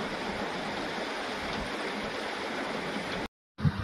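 Rainwater pours in through a house window with a steady, close rushing and splashing, continuous until a brief cut to silence near the end, then resuming.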